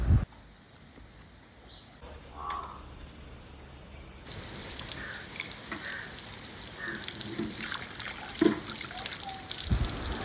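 Running tap water trickles and splashes as fish are washed under it in a home kitchen, a soft continuous flow with occasional clatters and louder gushes, fairly close and without talk.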